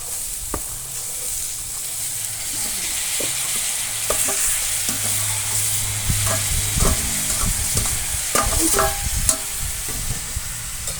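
Spices crackle and sizzle as they are tempered in hot oil in a frying pan, with stirring and scraping sounds and a few sharp pops, steady and close.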